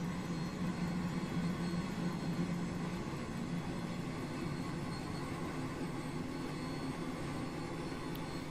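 Inside a helicopter flight simulator game, a turbine engine spins up into a steady whining roar, a continuous even drone with no breaks and no one talking over it.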